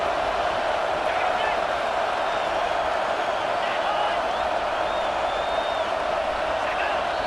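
Loud, dense roar of a packed college football stadium crowd at Georgia vs Ole Miss on a fourth-down play, a steady wall of cheering and yelling that holds without a break throughout.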